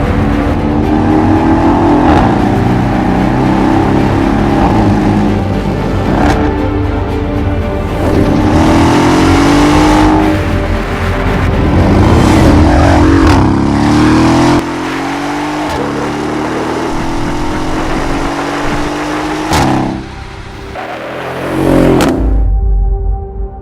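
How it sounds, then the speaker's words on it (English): A Mercedes-AMG S 63 Coupe fitted with an Akrapovic exhaust revs hard in repeated loud bursts, climbing and falling in pitch with sharp pops between blips, close to the microphone and with no voices over it. "the lightest ECE type approved exhaust system that sounds and performs unlike anything you've ever experienced before"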